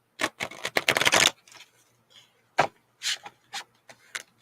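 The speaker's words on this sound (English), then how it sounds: "I'm actually shuffling these cards like nothing's wrong" A deck of tarot cards is shuffled up close: a quick riffling burst followed by several separate short flicks and taps of cards being handled.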